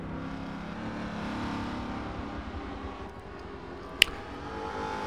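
A 1998 Aston Martin V8 Vantage V600 engine in Forza Motorsport 7 at Mount Panorama drones steadily under load, with a rising-and-falling tone and one brief sharp click near the end.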